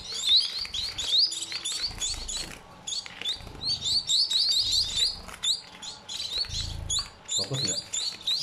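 Tame one-month-old Japanese munia chicks chirp rapidly and repeatedly in high, thin bursts during hand-feeding, close by, with occasional low voices underneath.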